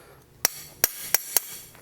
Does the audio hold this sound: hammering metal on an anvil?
yes